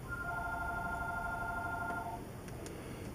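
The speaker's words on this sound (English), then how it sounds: "my phone's ringing" A phone rings with a short electronic tone pattern for about two seconds, moderately near, before stopping, leaving quiet room noise with a couple of faint clicks.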